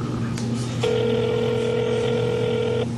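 A telephone gives a single sustained electronic ring, loud and close, over a low background hum, with a short burst of tones just before it.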